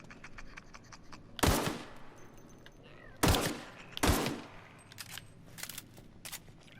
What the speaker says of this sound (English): if you want to practice shooting, you can shoot these little sprats